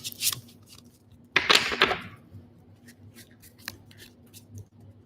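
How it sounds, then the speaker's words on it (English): Tarot cards riffle-shuffled close by in a quick burst, followed by a few light taps and shuffles of the deck in a quiet room. "I'm going to shuffle these cards too"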